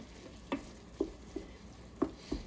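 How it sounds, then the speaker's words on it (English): Sausage cooking in a pan on the stove, with a soft sizzle under a handful of distinct stirring scrapes and clicks at irregular intervals, close and fairly quiet, no voices. "we just want to make sure that our sausage is cooked"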